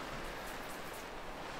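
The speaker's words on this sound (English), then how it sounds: "Get rid of that rain." Steady rain in Minecraft with the All The Mods modpack, a soft continuous hiss of falling drops at low volume with no other sounds or voices.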